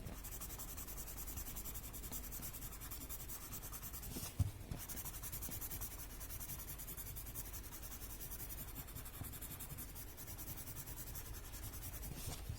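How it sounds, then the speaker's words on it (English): Graphite rubbed and spread across paper while shading a drawing along curved lines, a steady soft scratchy rubbing that continues close and even throughout, with one brief louder bump partway through. "spreading the graphite that I have put on the outer oval, coinciding with the curves"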